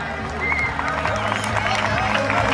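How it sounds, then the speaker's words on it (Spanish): Crowd at a Valencia football club's 2013/2014 team presentation applauds the Infantil C youth team, a steady wash of clapping and crowd noise with voices mixed in throughout. "Infantil C, un aplauso para todos ellos."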